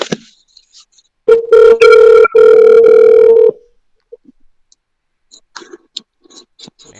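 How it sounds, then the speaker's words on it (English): A telephone rings loudly during a live call, two bursts of electronic trilling close together, followed by faint clicks and handling noises. "Sean, are you gonna answer your phone?"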